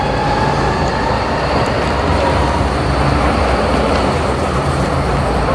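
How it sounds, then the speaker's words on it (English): A tram pulls into a stop in Zurich, a loud steady rolling rumble of wheels on rails with faint high squeals, close by and continuous without talking. "Our tram is coming now."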